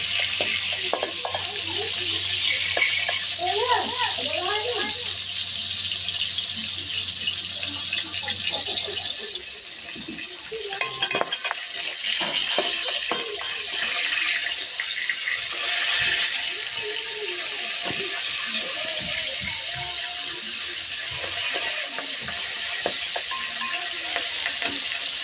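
Pieces of rui fish frying in hot oil, a steady bright sizzle with crackles and occasional stirring clinks, close and continuous.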